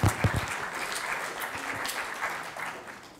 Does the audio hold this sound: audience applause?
yes